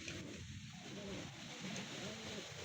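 White racing pigeons coo softly in a loft, giving faint, repeated low coos over a quiet background hiss.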